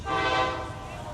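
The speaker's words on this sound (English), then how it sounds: "it's a lovely train in the background" A train passes in the background with a tonal horn-like hum that swells then slowly fades, heard at moderate level behind faint room sound.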